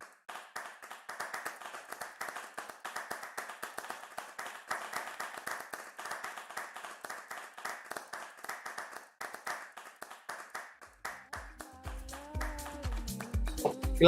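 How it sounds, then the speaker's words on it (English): An audience claps at the close of a live-streamed soft launch event: brisk, fairly close hand claps in an irregular patter, fading near the end as voices and a brief melodic tone come in. "Clap."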